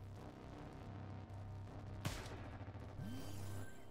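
Marker rounds fired from a turret in a video game, heard as one sharp shot near the middle followed by a short rising whir, over a steady game soundtrack.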